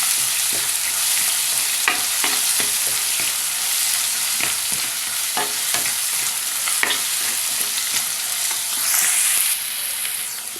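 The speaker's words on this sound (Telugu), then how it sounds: "ఇప్పుడు దీనిలో మామిడికాయ తురుము వేసేద్దాం దీన్ని కూడా ఒక నిమిషం పాటు ఫ్రై చేస్తున్నాం" Grated raw mango frying in a pan, a loud close hissing sizzle with repeated spatula scrapes and stirring knocks at an irregular rhythm, continuous for the whole stretch with no voices.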